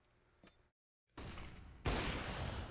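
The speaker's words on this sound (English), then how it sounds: "Iquinho firing off the initial shots" Gunfire in a competitive Counter-Strike: Global Offensive match, starting faint, dropping to a brief silence, then opening into loud, dense bursts of shots that grow louder still toward the end.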